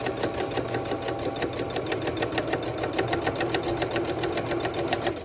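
A home sewing machine stitches steadily down the side of pinned fabric, a continuous close whirring drone with rapid, even needle ticks running throughout and no voices.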